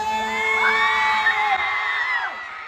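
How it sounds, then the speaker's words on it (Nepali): Loud crowd at a dance show in Jayanagar, Bardiya, cheering, whooping and shouting together in a sustained, close roar with high yells riding on top. "एकचोटि गंगू छेत्रीको निम्ति पनि हल्ला सुनो।"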